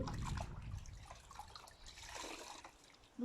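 Water rinses a sanded wooden writing desk whose varnish has started to come off, a soft steady trickle and splash at close range with no talking.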